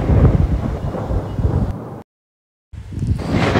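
Heavy rain roars with rumbling wind and thunder-like noise, cutting out abruptly for a moment before the downpour resumes.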